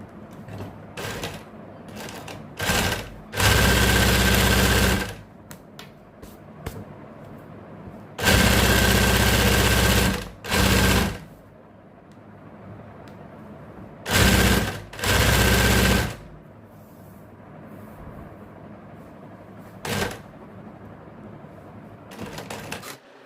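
A sewing machine stitches a single purple line on a zigzag-corded beach bag, running in several loud, rapid bursts of a few seconds each, separated by quieter pauses with small handling clicks.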